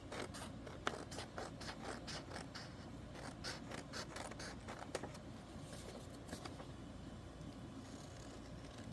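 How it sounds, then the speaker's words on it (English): Small scissors snip repeatedly along the white margin of a sheet of paper, crisp rapid cuts in an uneven rhythm, faint and close with a light papery rustle underneath. "I'm just going to trim away with my scissors this white margin along the edge."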